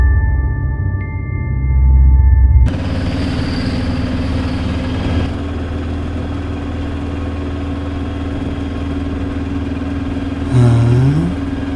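An auto rickshaw engine runs steadily with a rough, throbbing idle throughout, briefly quieter before a loud start at about three seconds, then a rising revving near the end. No one speaks.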